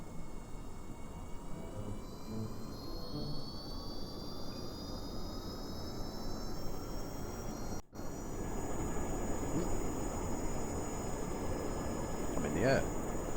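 A Kerbal Space Program science plane, Sci-Plane 1, takes off with a steady whining jet-engine roar that holds even and rises slightly in pitch, briefly cutting out once partway through, with some faint clicks near the end.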